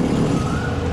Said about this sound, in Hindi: जो इंजन का इसका साउंड एंड ग्राउल है ना बेस्ट है